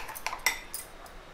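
A utensil works through thick gram flour batter to break up lumps for chilli bhaji, giving a few faint, quick scraping clinks against the bowl, and no speech.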